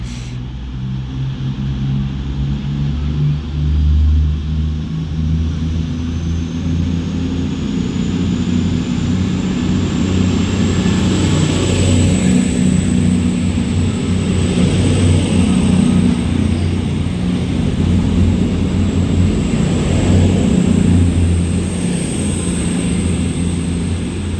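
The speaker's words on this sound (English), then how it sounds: "(221-115) departs Stoke-on-Trent now with the 11:04 cross-country service to Bournemouth" A Cross Country Voyager Class 221 diesel train pulls out of Stoke-on-Trent station, giving a loud, steady engine rumble with a thin high whine above it that holds for the whole stretch. No voices are heard.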